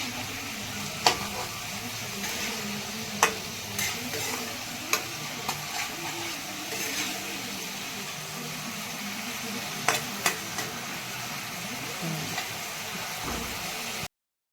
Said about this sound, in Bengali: এইবার একে আমি নেড়ে চেড়ে ঢেলে নেব ফোটানোর জন্য তো গ্যাস বাড়িয়ে দিলাম খুব